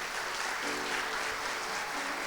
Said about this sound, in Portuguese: Salve de palmas para a Pati